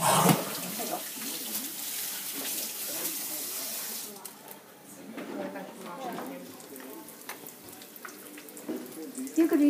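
Egg rolls frying in hot oil give a loud, steady sizzle that fades after a few seconds into a softer crackle, with people talking over it.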